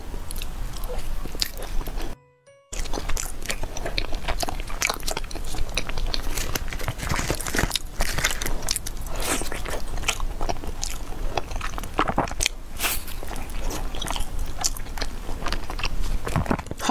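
Huangshan alkaline-water zongzi filled with sweet red bean paste is bitten and chewed close up, giving continuous sticky, moist chewing and squishing with soft crunchy scrapes and one brief silent pause near the start.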